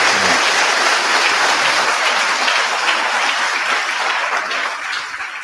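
A church congregation bursts into loud, sustained applause during a Portuguese-language celebration service, dense clapping filling the room that holds steady and then slowly fades toward the end.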